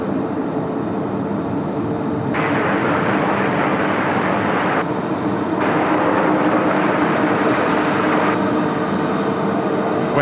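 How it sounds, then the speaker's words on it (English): Jet engines of a Korean Air Boeing 787-10 at Sydney Airport, heard from a distance on a westerly wind: a loud, steady broadband roar with no talk, swelling and easing in sections across the whole span. "we can actually hear the engines from all the way over there"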